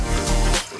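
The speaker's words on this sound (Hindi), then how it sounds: "4 गिलास इसमें पानी डाल दें" Water poured from a glass into a cooking pot for black beans and rice, a steady splashing pour close by that cuts off after about half a second.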